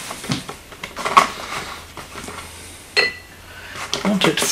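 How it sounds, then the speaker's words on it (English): A brush mixes acrylic paint in a container, giving close, irregular scrapes and clinks against the container with short pauses between strokes. "Use my brush to mix up the paint."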